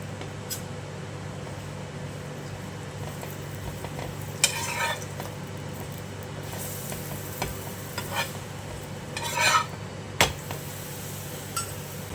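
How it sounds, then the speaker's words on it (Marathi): Radish paratha cooking with ghee on a pan and being flipped: a soft, steady sizzle runs throughout, with a few sharp scrapes and taps from the turner. "पलटी करून घेऊया तूप लावून घेते"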